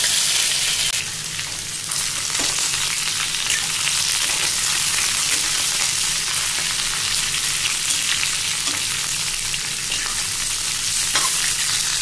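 Jackfruit pieces fry in hot oil with cumin in a kadhai, giving a loud, dense, continuous sizzle and crackle that holds steady throughout with no talking.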